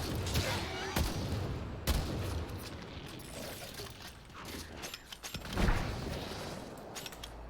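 Enemy gunfire from the Warframe video game, sharp shots and bursts scattered across the stretch over a dense, busy game soundscape with mechanical clatter.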